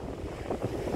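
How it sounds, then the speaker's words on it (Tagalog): Strong Pacific Ocean waves breaking at a wide beach, a steady broadband roar of surf with swelling pulses, mixed with wind buffeting the microphone, loud and continuous throughout. "Super lakas ng alon."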